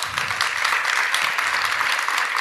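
A live audience at a public podcast recording bursts into steady, dense applause, many hands clapping together at close range for the full stretch with no voices on top.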